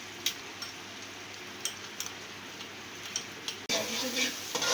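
A steady crackling sizzle of food frying in a pan, with occasional clicks, then a louder burst of sizzling as chopped onions are added to hot ghee.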